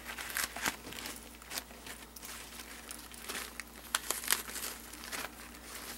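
A wrapped birthday gift package is unwrapped quietly, with soft paper crinkling, rustling and small tearing sounds scattered unevenly throughout, close but faint, with no voices.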